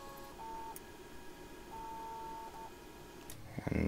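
A Sidewinder X1 3D printer homes its axes, giving off steady high stepper-motor tones in short pulses over a low background hum, ending with a louder mechanical clatter.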